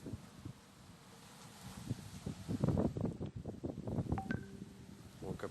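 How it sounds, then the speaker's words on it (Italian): Very strong storm wind near a mountain hut, after a tree has fallen, blowing as a low, gusting roar with rustling and buffeting bursts that build from moderate to loud over a few seconds. No one speaks. "Sentiamo anche l'audio del vento molto forte."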